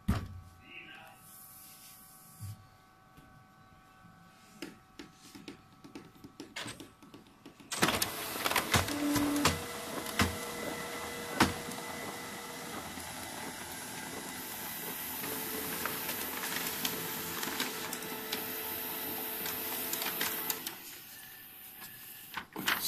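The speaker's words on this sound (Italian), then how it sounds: "Stampa pagina diagnostica." An HP Color LaserJet CP5525 color laser printer printing a diagnostic page after a main drive replacement: quiet room noise, then a loud whirring mechanical run with clicks and rollers, steady for several seconds before winding down.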